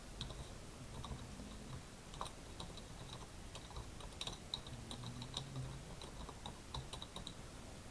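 Fingers tap out an email address on a computer keyboard, a quiet run of light, irregular key clicks close to the microphone in an otherwise hushed room.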